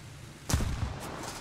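A T-72B main battle tank in War Thunder firing its smoke grenade launchers: a sudden muffled thump and whoosh burst partway through, then a second sharp pop at the end over low engine rumble.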